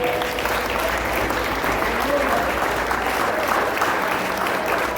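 A church congregation claps hands in a steady, dense wash of applause that holds evenly for several seconds, with faint voices mixed underneath.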